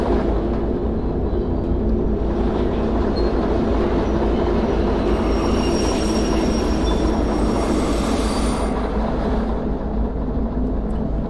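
A train in the railway simulator Derail Valley rolls steadily along the track, a continuous close rumble with faint wheel clatter and light squeal, no voices over it.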